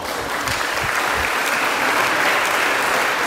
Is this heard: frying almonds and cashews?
no